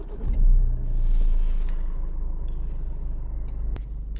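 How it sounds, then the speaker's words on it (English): A Volkswagen car engine idles steadily after a key start, with a deep, continuous low rumble that holds even throughout, close by with no talk over it. "I can now turn this key and release it, and the engine is running."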